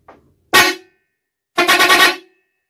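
A loud, brassy Mitsuba long trumpet vehicle horn sounds twice: a short blast, then a longer warbling one about a second later, with silence between.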